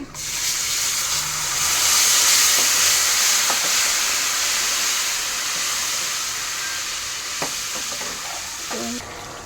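Tamarind frying in oil with asafoetida for Andhra pulihora makes a loud, steady hissing sizzle that eases slightly over time. A few faint spoon taps come near the end, with no talk.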